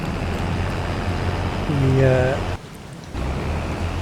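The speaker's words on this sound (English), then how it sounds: "Oh well, it's just started raining." Steady hiss of rainfall in a farming video game fills the scene, with a brief rising electronic tone partway through and a short drop in the rain noise near the end.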